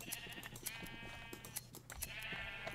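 Sheep in the Minecraft video game bleat repeatedly at moderate volume, with several overlapping calls and small clicking game sounds between them, and no talking.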